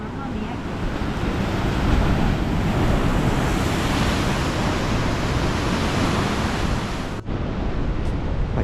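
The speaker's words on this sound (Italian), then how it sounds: "La forza del mare." Rough sea surges and crashes against the rocky shore near the walls and strait of Portovenere, a continuous loud roar of surf mixed with wind buffeting, steady throughout with a brief dip near the end.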